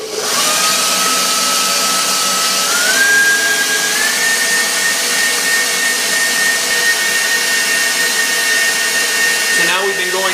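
An electric mixer beats eggs at high speed for a sponge cake, a loud continuous whirring motor whine that rises in pitch in steps, steady and close throughout, with a brief change in the motor sound near the end.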